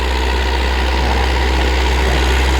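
A Ford 7710 farm tractor fitted with a JD engine idles steadily close by, a loud continuous low diesel rumble and drone with no pauses.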